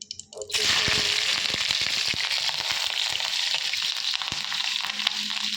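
Helencha greens frying in a pan for a rice dish, a steady broadband sizzle that starts abruptly and holds loud and close, with scattered crackles and spatters throughout.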